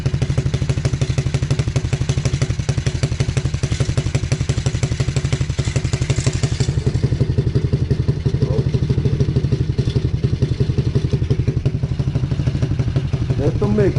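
A cheap quad bike's engine runs close by, a steady pulsing putter that holds on without a break, with a voice talking over it at times.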